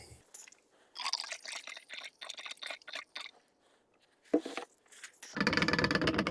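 Gas and oil pour and trickle in bursts into the tin of a Holzfforma G660 chainsaw, with sloshing pauses between pours and a steadier fill at the end; close and fairly quiet, no speech.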